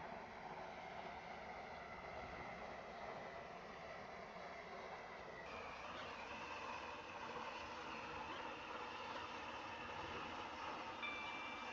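A Class 345 train in the Roblox game SCR runs with a steady, even rumbling drone that shifts slightly in tone midway. The sound is moderately quiet and continuous, with no voices.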